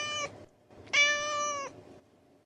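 A cat gives two distinct meows nearby, a short one followed by a longer drawn-out cry, over a quiet background.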